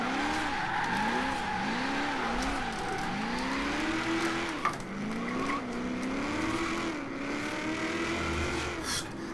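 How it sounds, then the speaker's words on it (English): A Nissan 240SX Rocket Bunny drift build in Forza Horizon 3 screams at high revs while drifting, its engine note rising and falling in repeated swoops amid steady tire squeal, loud and continuous. "This car screams! It's screaming at me."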